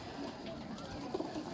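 Pigeons coo softly in the background among a group of birds kept for sale, faint and low under a general ambient hum.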